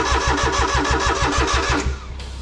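A Kenworth W900L truck engine cranks with a rapid, rhythmic chugging of about a dozen strokes but fails to start, loud and close, then the cranking stops abruptly.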